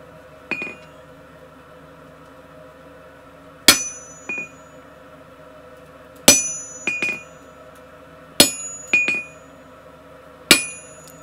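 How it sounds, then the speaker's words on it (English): Hammer blows on hot steel while fullering a flower-shaped bottle opener at the anvil, ringing metallic strikes in small clusters of two or three, loud and close, separated by pauses, with no talk. "Now I can make it hot again and continue fullering."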